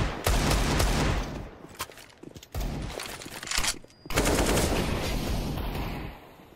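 Dense, loud gunfire in a professional Counter-Strike match, sustained rapid bursts broken by brief gaps, heard almost alone with little talk.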